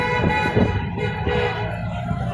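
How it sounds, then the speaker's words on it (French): Steady, sustained honking of car horns with several overlapping tones, fairly loud and continuous amid busy street noise at a yellow vest protest in Paris. "Ça klaxonne toujours."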